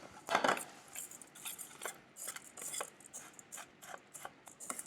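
A spoon stirs maple syrup into a mixture in a bowl, making faint irregular scraping and clinking strokes, quiet and close.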